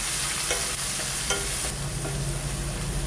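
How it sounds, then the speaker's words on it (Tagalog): Garlic, onion and red chili sauté in hot oil in a pan with a steady, loud sizzle. A few sharp clinks and scrapes from stirring break through now and then. "Magisa tayo ng bawang at sibuyas. Maglagay na rin ako dito ng siling pula."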